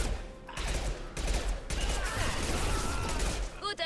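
A flurry of sharp gunshots crackles in quick bursts in Mass Effect 2, dense and loud, with mechanical clicks near the end.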